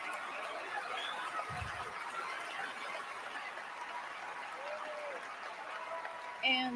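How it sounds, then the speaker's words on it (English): Crowd clapping from a played recording, faint and diffuse beneath a murky room background, with scattered voices and a brief louder noise at the end. "There are people clapping like seals."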